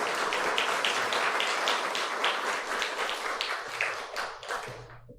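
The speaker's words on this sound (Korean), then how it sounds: "감사의 박수 하겠습니다" A chapel congregation at a university service gives the choir a round of thankful applause. The clapping is moderately distant and rhythmic, with separate claps standing out, and it fades away at the end.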